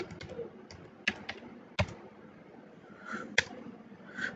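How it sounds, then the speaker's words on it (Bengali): Someone types a command on a computer keyboard: sparse, quiet individual keystrokes at an uneven pace, with a few sharper presses standing out over faint room noise. "টাইপ করব পাইথন স্পেস দুইটা হাইফেন দিয়ে তারপর ভার্সন লিখবো"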